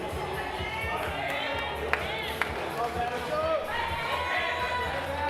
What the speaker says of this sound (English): Loving the support from the crowd already.